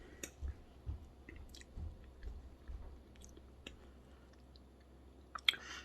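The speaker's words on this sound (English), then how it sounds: "I'm just going to take a quick taste of mine." Quiet, close chewing of a home-cooked pantry dish with ham, soft moist bites and a few small clicks, repeated at an irregular pace with nothing else around it.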